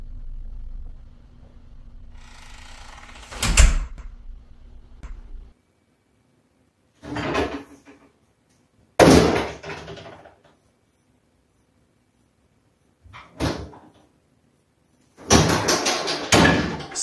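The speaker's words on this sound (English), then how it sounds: "Something began opening doors in his new home." Doors opening and closing inside a house: several separate thuds and creaks with bursts of rattling, spaced seconds apart with silence between, fairly close and loud, no talk.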